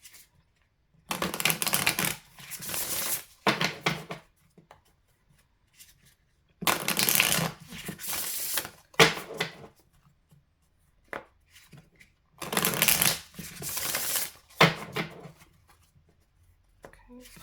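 Tarot cards shuffled and laid down in a pick-a-card reading: three bursts of crisp riffling and slapping, each a few seconds long, separated by quiet gaps, close and fairly loud, with no talking.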